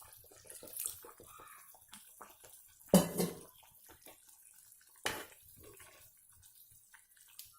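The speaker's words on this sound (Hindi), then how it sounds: "और इसके अंदर थोड़ा सा पानी डाल लीजिए।" Water poured into a pan of fish curry: a few short splashes and trickles, one louder pour in the middle and a smaller one after, close and fairly quiet.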